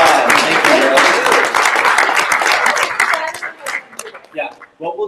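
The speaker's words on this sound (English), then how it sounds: "Let's give them a round of applause." An audience claps and applauds for two guests, loud and dense at first, then thinning into scattered claps with chuckles and voices over the last second.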